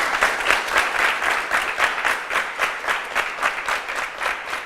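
An audience applauds at a French job-fair broadcast, dense steady clapping close by that holds evenly throughout with no voices over it.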